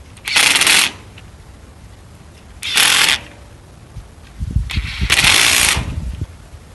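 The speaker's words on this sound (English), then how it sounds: "This is done by an impact with a 1/2 inch socket on it." An impact wrench with a 1/2 inch socket tightens bolts during assembly of a Javelin 16-4 auger, giving three short, loud, rattling bursts separated by pauses.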